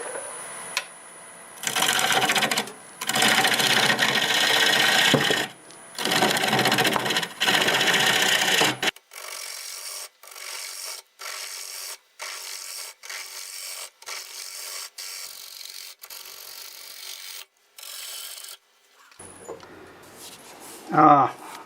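Wood lathe turning a cherry bowl as stock is removed, a rough scraping hiss in repeated cuts that stop and start, shifting to a thinner chattering rhythm with brief pauses, close and fairly loud.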